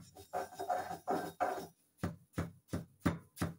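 Dried coriander seeds pounded gently by hand to loosen their husks, a run of dull rhythmic thuds with gritty crunching, several quick strokes and then evenly spaced separate blows, close up.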